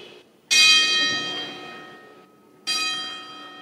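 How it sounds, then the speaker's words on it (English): A bell rings twice for a ten-bell salute at a pro wrestling event, each strike loud and sharp with a long ringing decay, the second about two seconds after the first. "A 10-bell salute for the memory of the Boot Boys."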